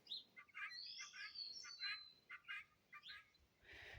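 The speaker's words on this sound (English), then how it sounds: "So you can hear the guineas, I think, in the background." Four distant pearl guinea fowl give repeated chattering calls in quick, uneven bursts, faint against a quiet outdoor background.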